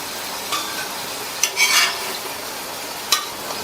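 Slices of elephant foot yam fry on a hot tawa with a steady, soft sizzle. A few sharp spatula scrapes and taps stand out over it, close up with no talking.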